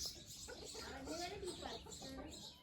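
A hen clucks softly in short, repeated calls, faint and close, while people talk quietly nearby.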